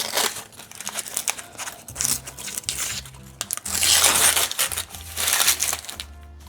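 Baking paper crinkles and tears as it is peeled off a freshly baked loaf of homemade bread, a loud, close, continuous rustling with short pauses and no talk.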